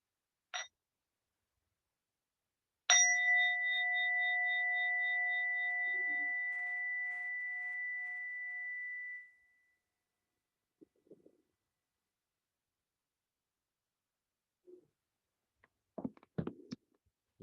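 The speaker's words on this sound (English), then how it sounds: "And we'll begin with one sound of the bell." A single meditation bell is struck once, ringing with a clear sustained tone that slowly decays over about six seconds, then gives way to near silence with a few faint soft rustles.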